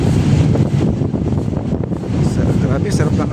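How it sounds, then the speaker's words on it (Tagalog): Gusty wind at a seaside esplanade buffets the microphone in a loud, rough rumble, with faint voices underneath. "Grabe, sarap ng hangin dito, oh."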